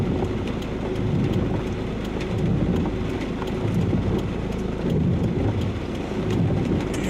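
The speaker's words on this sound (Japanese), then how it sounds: "台風接近中でだんだん紀伊中央町も雨足が激しくなってきました" Heavy rain pours down steadily as a typhoon approaches a mountain town, a dense, continuous roar heard from inside or around a vehicle, with no voices.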